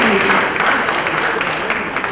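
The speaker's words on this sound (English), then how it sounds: "a huge round of applause for Bengaluru Traffic Police" Audience applause at a Bengaluru philanthropy awards night, a steady wash of clapping filling the hall for about two seconds, with voices mixed in under the applause.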